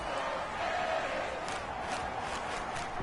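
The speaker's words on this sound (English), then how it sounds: "This crowd turning up the decibel level" A stadium crowd in a PS4 football video game roars in a dense, steady wall of cheering and shouting that swells slightly in waves throughout.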